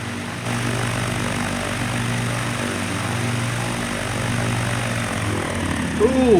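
A propeller plane in Microsoft Flight Simulator lands on an uphill runway, its engine droning steadily with a low pulsing tone and a brief rising whine at the end; a voice speaks intermittently.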